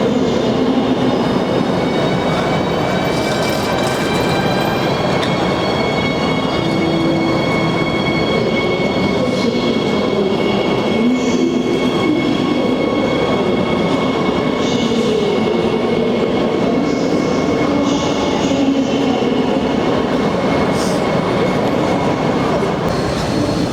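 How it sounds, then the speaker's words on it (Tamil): Trains rumbling through a Berlin railway station, a loud, continuous roar of wheels on rails with faint screeching tones and clicking joints, sustained throughout as cars pass close by. "எங்களுக்கு கீழே ட்ரெயின் ஓடுது, எங்களுக்கு மேலே ட்ரெயின் ஓடுது."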